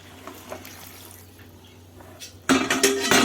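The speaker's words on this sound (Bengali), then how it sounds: "দিয়ে দিচ্ছি গরম জল পরিমাণ মতো" Hot water poured into a pan of paneer curry cooking on the stove, a sudden loud hissing splash after a quieter stretch of faint kitchen clatter, close and alone.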